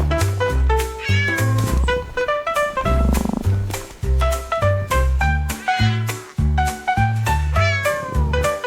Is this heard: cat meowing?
yes